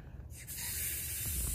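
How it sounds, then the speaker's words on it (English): A hand pump inflating an inflatable toilet seat, giving a steady, close airy hiss that starts abruptly after a brief quiet moment and continues without talk. "So it does take a few minutes to pump up with this pump"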